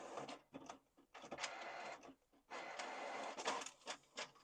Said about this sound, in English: I'm going ahead and I press print.